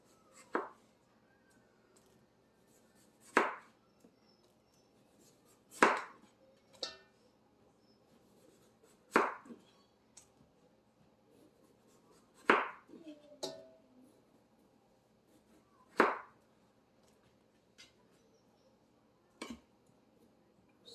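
A knife chopping canary melon on a board: sharp, isolated knocks roughly every three seconds, about eight in all, close and clear against a quiet kitchen background, sometimes with a softer follow-up tap.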